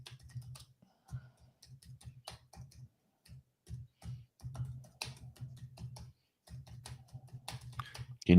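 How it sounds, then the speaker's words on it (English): Rapid typing on a computer keyboard clatters in quick irregular bursts of clicks with short pauses, close and fairly quiet. "Can you hear the speed of my typing?"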